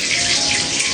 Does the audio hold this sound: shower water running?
yes